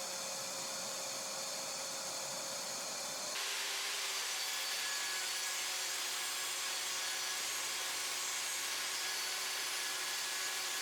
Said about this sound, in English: First, I'll use the planer to get the pieces to the thickness I want.